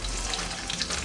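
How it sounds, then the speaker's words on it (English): Spiced oil sizzling in a frying pan at a street food stall, a steady close crackling hiss that runs without a break, with no voices over it. "Hot enough, you can hear it sizzling."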